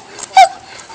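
A young dog named as a puppy gives one short, thin, strained bark partway through, sounding hoarse and weak, followed by faint whimpering against a quiet room.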